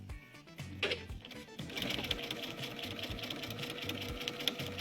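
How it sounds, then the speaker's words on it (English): A sewing machine stitches a quilt-as-you-go border, a steady rapid mechanical whirr starting after a few brief clicks and running evenly close by, with no speech over it. "I can easily just pop that underneath the foot, and I'm right to sew."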